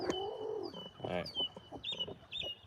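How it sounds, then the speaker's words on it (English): A broody backyard hen clucks in a string of short, close, throaty bursts with a few higher squawks, uneven in rhythm and heard alone. "we got a broody chicken."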